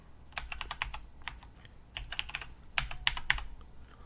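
Fingers tap out a password on a computer keyboard during a Linux install, a quick run of crisp keystrokes in short bursts with brief pauses, close and fairly quiet, with no speech.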